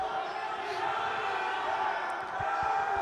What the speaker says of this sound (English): Wakefield crowd's giving it to him.